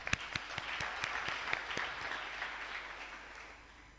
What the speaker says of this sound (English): We can give them a clap.